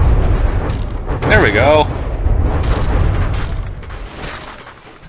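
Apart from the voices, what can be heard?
bombs exploding in From the Depths video game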